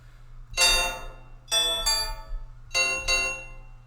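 Three bright bell-like synth tones ring out in sequence, each with a clean attack and short ringing decay, the last two struck in quick succession over a low steady hum.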